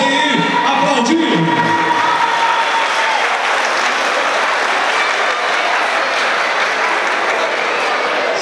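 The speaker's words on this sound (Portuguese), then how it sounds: "Vamos aí, aplaudir!" A crowd at an exhibition fight bursts into sustained, loud applause that fills the space evenly from start to finish, with scattered cheers mixed in.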